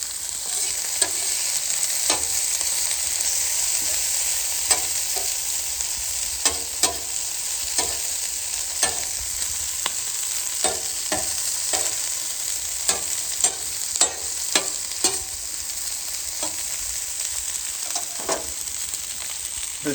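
Food sizzles and fries steadily on a Callow four-burner plancha grill, with scattered sharp clicks and scrapes as pieces are turned, all without voices.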